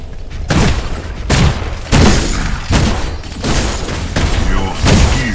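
Destruction effects from allied towers falling in the video game Predecessor: a run of loud, heavy booms and crashing impacts at roughly one-second intervals, with game voice lines layered over the blasts.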